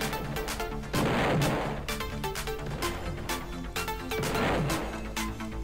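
Rapid bursts of gunfire from a weapon shooting zombies in a Roblox game, loud sharp shots in clustered volleys across the whole stretch, with no talking.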